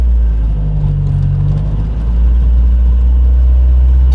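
A car with badly misaligned wheels and very sticky tires drives along, giving a loud, steady low rumble and engine drone heard from inside the cabin, with no talking.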